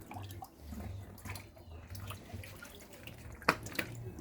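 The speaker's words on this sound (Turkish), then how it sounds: "Yıka domatesi, yıka domatesi." Tomatoes are rinsed under running water while making tomato sauce, with a soft continuous trickle and splashing, low and fairly distant, and a couple of sharper drips or knocks near the end.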